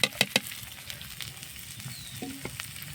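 Chopped onion, green chili, cumin and crushed garlic hit hot oil, sending out a few loud crackling pops at the start before settling into a soft, steady close sizzle with no talk.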